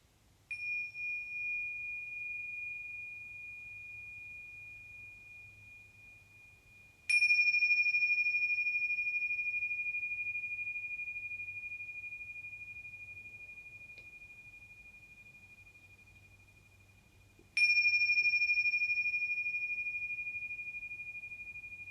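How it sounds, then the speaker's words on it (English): Meditation bells are struck three times at long even intervals during a calm meditation practice, each a clear, bright ring that decays slowly into quiet. "And I'll ring the bells for you 3 times."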